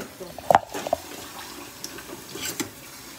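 Water runs from a sink tap as an object is washed out beneath it, with a few splashy bursts over a steady trickle and faint room sounds.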